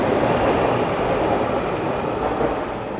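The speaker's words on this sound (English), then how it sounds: "Now here we are in a metro station, one of the few that is above ground" Metro train at an above-ground station, a loud continuous rumble and roar of rail cars running close by, steady throughout with no voices.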